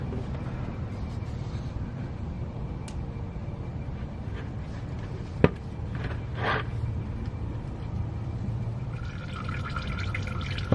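Fluid draining from the drain plug of a Toyota Tacoma truck, a steady, trickling pour into a catch pan that runs on throughout, with a single sharp knock partway through.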